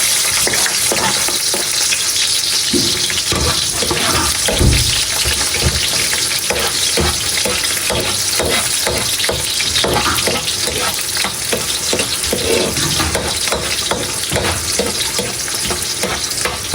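Onion and garlic sauté in a hot pan for creamy spaghetti, a steady loud sizzle with occasional stirring scrapes running continuously throughout.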